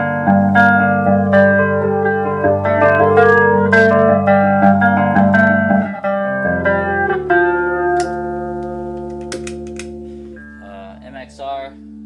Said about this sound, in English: This is a flanger, just Boss flanger.